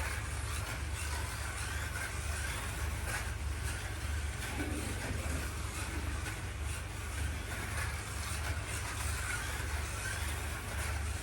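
A Revo Slot Alfa Romeo GTA slot car runs on 9 volts under a DS hand controller, giving a steady, quiet whirring motor hum that holds unbroken throughout with no talking.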